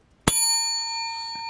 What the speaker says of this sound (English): That rates a bell.